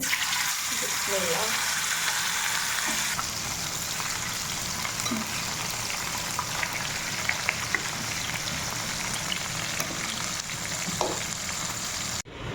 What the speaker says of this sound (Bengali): তারপরে মাছটা আমি ভাজবো তার জন্য ফ্রাই প্যানে তেল দিয়ে দিছি তেলটাও গরম হয়ে গেছে